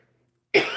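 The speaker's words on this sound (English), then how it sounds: "I'm so sorry about the coughing" One sudden cough from someone with a cold bursts in after a quiet moment, sharp and close, then trails into a rough throat-clearing rasp.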